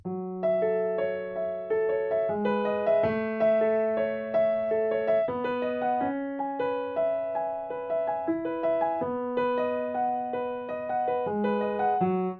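A repeating piano riff plays alone, with clear sustained notes and chords moving in a steady, even pattern.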